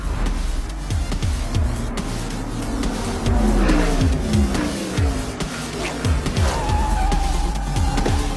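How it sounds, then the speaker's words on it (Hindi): Race cars speed around a track in a film scene, with engines revving hard and repeated rising and falling whines as the cars blast past, all loud and continuous. "He has been racing through the track like a bullet."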